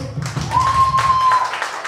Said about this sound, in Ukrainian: Та ще раз самі собі оплески.